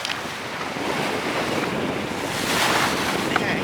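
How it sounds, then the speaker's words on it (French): Wind and waves around a sailboat at night during an ocean crossing from French Guiana to Brazil, a loud continuous rush of gusting wind and surf that swells toward the end. "On a l'impression que le vent va nous agresser."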